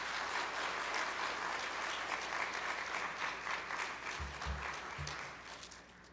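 A church congregation applauds as the pastor walks in, a broad sustained wash of clapping heard somewhat distant and fairly quiet, easing off near the end with a few low thumps.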